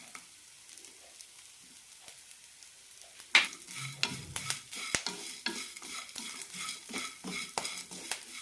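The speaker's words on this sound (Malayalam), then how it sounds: "തേങ്ങയും ചെറുതായി ചോക്കുന്നവരെ വറുത്തെടുക്കാം." Grated coconut and lentils roasting dry in a pan for bitter gourd chammanthi powder, with a quiet start, then a spoon scraping and stirring in repeated strokes over a soft sizzle, close and fairly loud.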